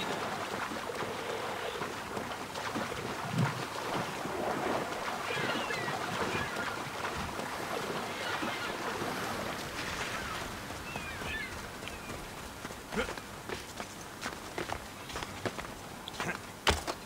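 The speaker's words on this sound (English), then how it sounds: "we're going to go for a swim and admire the awesome looking waves" Ocean waves in Assassin's Creed Odyssey heard while swimming, a steady broad wash of surf and water churning, with wind noise and splashing strokes over the whole stretch.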